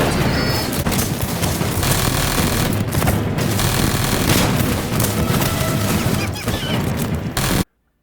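Shooting up an entire city in the space game Starfield: dense, continuous automatic gunfire and booming impacts, loud and close, cutting off abruptly at the end.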